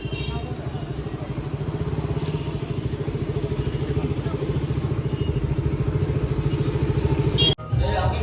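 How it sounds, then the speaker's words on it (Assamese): A Pulsar motorcycle being ridden, its engine giving a steady, fast, rhythmic low thrum close by over several seconds, with a thump near the end and brief speech-like noise in the background. "এইখন এই বাইক পালচাৰখন লৈ আছো"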